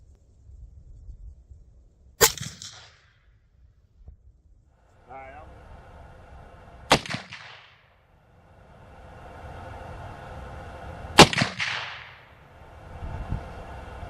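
Three sharp, loud rifle shots from a 450 Bushmaster firing Remington AccuTip ammunition at a range, spaced several seconds apart, each with a brief echoing tail over low background rumble.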